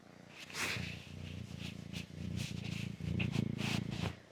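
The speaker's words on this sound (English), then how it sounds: "Listen to him purr." A cat purrs steadily up close, a low rhythmic rumble rising and falling with each breath, with no talking.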